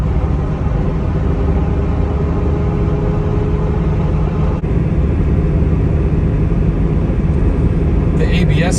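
A 1997 Mustang Cobra cruises on the road, its engine droning low and steady with tire and road rumble filling the cabin, a brief bump near the middle and a faint voice toward the end.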